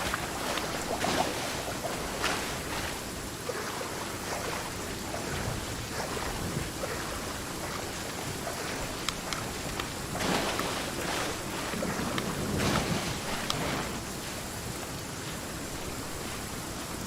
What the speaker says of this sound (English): there's a second tier to the waterfall here.